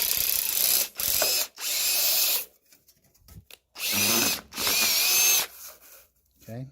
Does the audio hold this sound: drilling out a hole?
yes